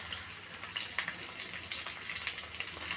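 Garlic fries in hot oil with dried chillies and turmeric, a steady hissing sizzle with faint crackles and light stirring, close by and without speech.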